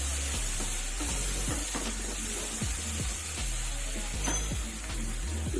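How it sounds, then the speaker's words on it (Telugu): Pakodas drop into a curry simmering in a pan, giving a steady close sizzle with repeated scraping stirs across the clip. "ఇప్పుడు నేను ఈ పకోడీ వేస్తున్నానండి"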